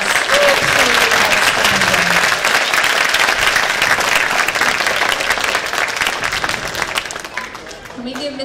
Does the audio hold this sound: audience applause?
yes